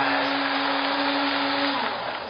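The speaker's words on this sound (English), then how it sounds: "we're going to pop it straight into the blender" A kitchen blender whirs steadily at full speed, chopping about seven cups of watermelon into juice, a loud continuous motor whine that runs for a couple of seconds before starting to ease off.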